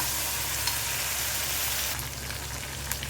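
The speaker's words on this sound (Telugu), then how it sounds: "కొద్దిగా పసుపు, జీలకర్ర గసగసాల పేస్ట్ వేసుకోవాలండి. ఒకసారి అంతా కలుపుకుందాం." Turmeric, cumin and poppy seed paste stirred in a hot pan for a coconut and chana dal curry, giving a steady broadband sizzle with faint scraping strokes, close and continuous, easing slightly toward the end.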